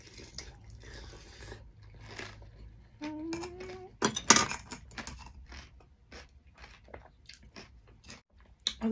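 Close, wet crunching and squishing bites as large oysters eaten with chili paste are chewed, irregular mouth sounds with sharper crunches mid-way and no talking.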